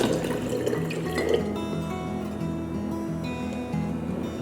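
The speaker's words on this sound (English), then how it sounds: "So I'm just gonna pour my water into my jar here." Water poured into a jar set aside for mixing lye for cold-process tallow soap, a steady continuous trickle and splash at close range with no talking over it.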